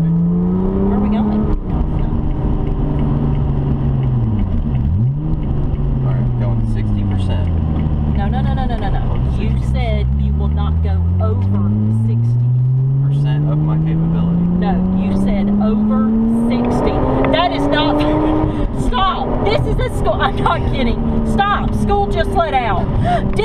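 A Lotus Evora S sports car accelerates on a road, its engine note sweeping up and dropping through gear changes, loud and close from inside the cabin, with passengers talking and exclaiming over it.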